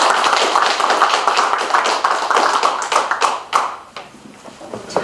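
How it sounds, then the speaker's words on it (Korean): Audience applause welcoming a lecturer to a talk on drawing the Korean flag, a dense steady clapping from a room of people that thins out and turns patchy toward the end. "박수로 환영하겠습니다"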